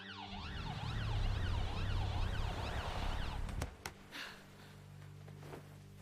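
An ambulance siren wails up and down in a rising and falling pattern, loud and close. It cuts off abruptly partway through, leaving a few quieter knocks and faint background sounds.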